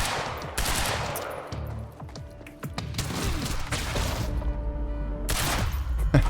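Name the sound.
gunshots from the video game Quantum Break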